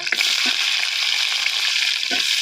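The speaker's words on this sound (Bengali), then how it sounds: "এবার আমি পেঁয়াজ দিয়ে এক মিনিটের মতো নেড়ে নিব" Chopped onion frying in a pan, a steady, loud sizzle running throughout with a few faint stirring scrapes and knocks, no voices.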